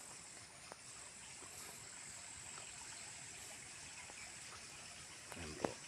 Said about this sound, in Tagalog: Ayan po yung ilog.